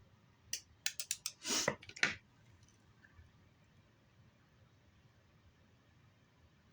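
Small scissors snip a tiny miniature resin drink piece, a few crisp close cuts and a short rustle in quick succession, then near silence.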